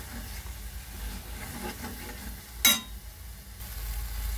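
Food frying in oil in a pan, a low continuous sizzle with faint stirring, one sharp clatter partway through, then a steady hiss.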